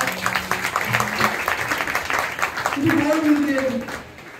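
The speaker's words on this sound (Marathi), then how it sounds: "जर आवडलं असेल तर भरपूर टाळ्या" An audience claps together at a Marathi music program, a dense patter of hands that is soon joined by a voice speaking over the fading applause.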